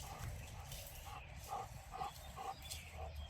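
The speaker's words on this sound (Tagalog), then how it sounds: "May aso." A dog barks in short repeated bursts outdoors during a neighborhood walk, moderately distant under steady low background rumble.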